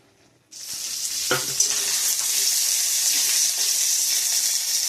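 Garlic, onion, dry red chilli, bay leaf and cumin hit hot oil after a moment of quiet, bursting into a loud, bright sizzle with a few spoon knocks and stirring scrapes, then settling into a steady hiss.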